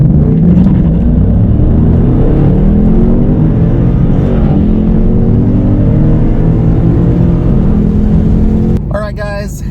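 A Dodge Challenger Scat Pack or Ford Mustang launches hard from a standstill, its loud engine roaring and climbing in pitch through a continuous acceleration run before dropping off near the end, where a brief voice is heard.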